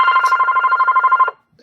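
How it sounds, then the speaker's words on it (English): A telephone rings loudly and close by in a steady warbling trill that lasts over a second, then cuts off into silence. "sorry about that phone running off"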